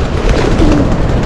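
Pigeons coo at a beach flock on the Black Sea coast at Lazarevskoye, Sochi, with a soft, close, continuous cooing over a busy outdoor background.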